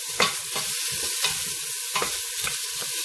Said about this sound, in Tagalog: Isute lang natin to ng kaunti guys.